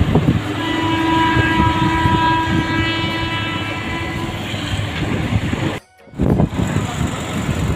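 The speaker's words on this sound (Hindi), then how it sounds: "ट्रेन जाते" A train passing close by, loud continuous rolling clatter of wagons with a sustained horn tone, then a brief drop-out before the rumble returns.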